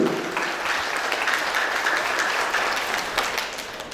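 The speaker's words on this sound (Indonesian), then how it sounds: "Boleh berikan tepuk tangan yang paling meriah Bapak Ibu" Audience at a Satpol PP training event in Kediri bursting into applause, a dense, lively round of clapping that fades slightly toward the end.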